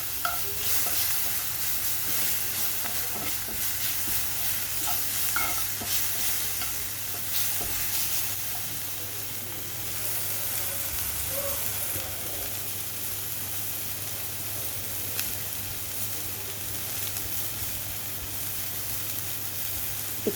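Onions frying with a little sugar in a pan, a steady close sizzle with stirring scrapes running throughout, no talking, ahead of adding chicken mince for spring rolls.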